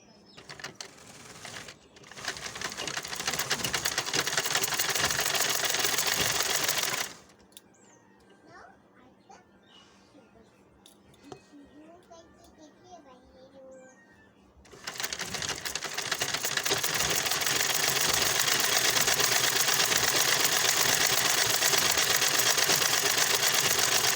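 A sewing machine runs in two long, loud, continuous bursts of rapid stitching, separated by a quieter stretch of faint handling noises.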